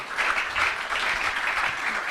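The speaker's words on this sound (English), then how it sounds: "let's also clap one more time for Professor Chinonso Achebe" Audience applause at a university alumni reunion panel session, a continuous, evenly pulsing wash of many hands clapping, moderately loud and unbroken for about two seconds.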